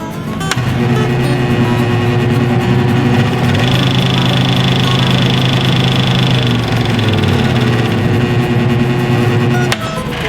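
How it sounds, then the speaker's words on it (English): A WEN scroll saw, model 3920, starts up for the first time and runs with a steady, loud mechanical buzz and vibrating hum that holds for about nine seconds before stopping. "here's this one's first startup"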